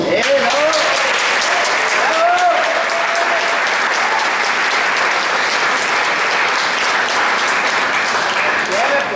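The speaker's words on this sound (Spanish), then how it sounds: "Un aplauso." Steady audience applause after a talk, continuous dense clapping throughout with some voices and whoops mixed in beneath.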